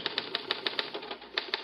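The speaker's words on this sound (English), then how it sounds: "I waited until the police stenographer completed typing up the Lennox confession." A police stenographer's typewriter clacks in a steady rapid rhythm of crisp keystrokes, about a dozen sharp strikes, close and clear with no voices over it, in a 1950s police headquarters.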